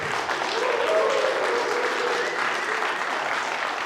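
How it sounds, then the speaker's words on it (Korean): Spectators at a professional three-cushion billiards tournament applauding a long scoring run, a dense, even wash of clapping that holds steady throughout, with a commentator's voice faintly underneath. "관중들의 박수 소리가 조금씩 커지고 있습니다"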